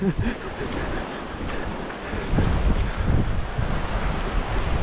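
Ocean waves at high tide wash onto a New Zealand beach, a rushing surf mixed with gusty wind buffeting the microphone, swelling louder toward the end, with no voices.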